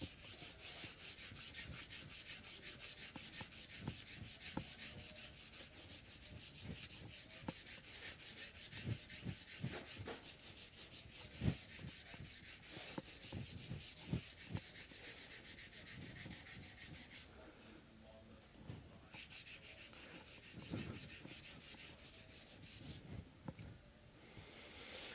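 Sandpaper rubs back and forth over the fret ends of an Electra MPC Outlaw vintage electric guitar, a quiet, close scratching in uneven repeated strokes with brief pauses.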